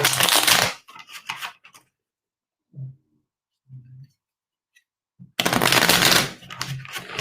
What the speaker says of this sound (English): I'm just going to shuffle for his Seven of Swords